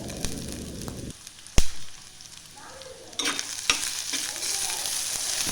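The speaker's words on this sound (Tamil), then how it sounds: "வெங்காயம், வெள்ளைப்பூடு எல்லாம் நல்லா ஓரளவுக்கு வதங்கணுன்னு கருவேப்பிலை, ரம்பையும் நான் சேர்த்துட்டேங்க" Onions, garlic and curry leaves sautéing in a pan for a Sri Lankan pork masala curry, a steady close sizzle with clanks and scraping stirs partway through, no talking.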